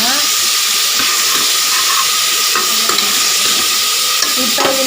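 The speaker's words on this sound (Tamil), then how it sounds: "கொஞ்சமாக உப்பு போட்டு நல்லா வதக்கிக்கோங்க." Onions with salt sauté in a pan for goat leg soup, giving a loud, steady sizzle close by with scraping stirring strokes throughout.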